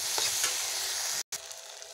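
Goat tripe being stir-fried in a pan, a soft steady sizzle with scraping stirring strokes, fairly quiet and heard alone with a brief cut in the middle.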